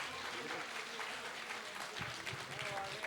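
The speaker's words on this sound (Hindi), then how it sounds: "आप ज़ोरदार तालियों से इस्तकबाल कीजिए" Steady applause from an audience at a Delhi mushaira and kavi sammelan fills the whole stretch, dense and continuous, with a voice faintly audible beneath it.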